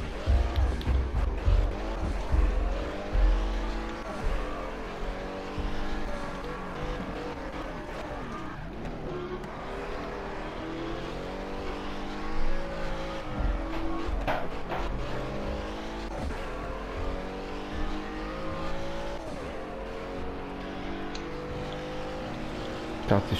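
Race car engine in the Project Cars racing game, revving and accelerating steadily at a loud, sustained level, with gear-shift pitch sweeps rising and falling throughout.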